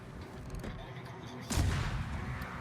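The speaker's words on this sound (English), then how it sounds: "I gotta take the shots at the submarine." Heavy ship guns in World of Warships fire a single loud booming salvo at a submarine, rising sharply out of steady battle rumble and lingering in a rolling tail.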